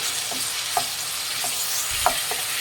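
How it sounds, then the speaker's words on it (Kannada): Chopped country tomatoes frying in a pan for tomato masala rice, a continuous sizzle with a few soft scraping stir strokes at intervals, close and fairly loud. "ಟೊಮೆಟೊ ಹಾಕ್ಕೊತಾ ಇದ್ದೀನಿ. ಇದು ಅಷ್ಟೇ ಫ್ರೈ ಮಾಡಿ."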